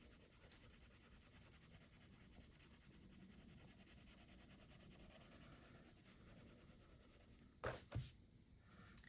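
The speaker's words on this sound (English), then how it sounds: "Let me burnish this pink" A colorless burnisher rubs over coral pencil on paper in faint, continuous close scratchy strokes, ending with two louder brief scrapes.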